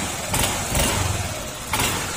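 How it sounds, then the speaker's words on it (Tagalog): A Honda Click 150 scooter engine, recently repaired and prone to overheating, runs at a low, steady idle close by, with a few brief swells in the otherwise even hum. "Tapos yan, tahimik na yung makina."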